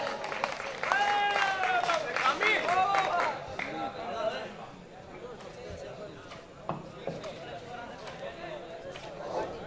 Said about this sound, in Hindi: जोरदार ताली हो जाए यार।